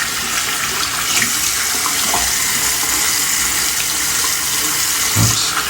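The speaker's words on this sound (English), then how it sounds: "Let me put some water on my face." Running tap water pours steadily into a sink at close range while someone splashes it on their face before shaving, with a soft splash near the end.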